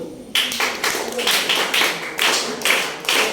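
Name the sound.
clapping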